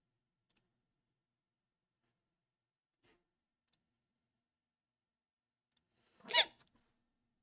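A single short hiccup from a person, one isolated burst in an otherwise near-silent stretch with only faint ticks around it.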